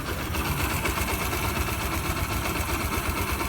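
A 2005 Yamaha YBR 125 motorcycle engine idles with an unwanted mechanical noise, a steady, fast, rattling chug that holds even and continuous throughout.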